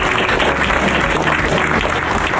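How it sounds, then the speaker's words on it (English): Audience at a community college student art show breaks into applause for an award winner, a dense, steady clapping of a room full of people from start to finish with no voices over it. "we can give him a round of applause"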